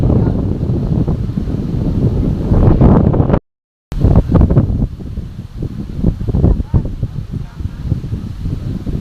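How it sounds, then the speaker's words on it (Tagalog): Strong wind at Lio Beach, El Nido, Palawan buffets the microphone in loud, continuous gusts with rumbling bursts, cutting out briefly partway through before resuming. "Malakas na rin yung hangin."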